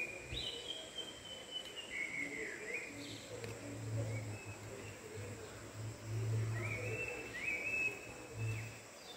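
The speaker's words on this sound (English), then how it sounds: "The little bird chirping." A small bird chirps in a forest near a stream in Chikmagalur, giving faint, scattered high calls over a soft, steady background with a low humming tone.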